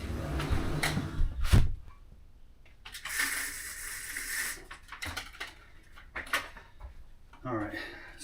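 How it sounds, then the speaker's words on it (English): A room door is shut during an indoor live stream, giving one firm thud among rustling and handling noises, with people's voices murmuring around it. "let me close the door then"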